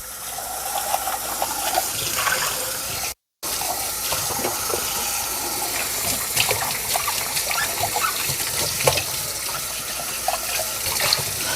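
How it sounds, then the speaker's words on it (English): Water poured from a cup into a pan for onion gravy, a steady splashing trickle running for several seconds with a brief break, fairly loud and close, with no talk. "Start off with a cup of water."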